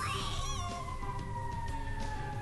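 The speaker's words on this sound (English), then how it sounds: "now there's super loud sirens in the background too" Loud sirens wail in the background of a city scene, a steady high tone gliding slightly downward and sustained throughout, with a faint rumble beneath.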